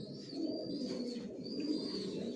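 Pigeons coo softly in a loft, a low, continuous, murmuring burble of several birds close by, faint and steady throughout.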